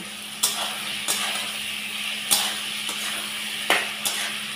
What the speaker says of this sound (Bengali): এইবার এই পোস্তটা আমি এর মধ্যে পুরোটা দিয়ে দিলাম। দিয়ে আমি ভালো করে কষিয়ে নেব।